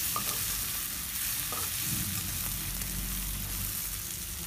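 Onion fries in a pan with a little oil and salt, a steady moderate sizzle running throughout while a utensil scrapes and stirs it in occasional soft strokes.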